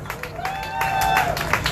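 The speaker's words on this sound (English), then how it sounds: "give him a round of applause" A brief round of applause from an audience at a community event honoring a family, with scattered clapping and a raised voice over the crowd.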